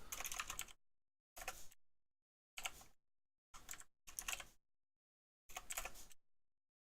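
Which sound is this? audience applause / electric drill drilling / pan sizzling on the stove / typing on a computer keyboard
typing on a computer keyboard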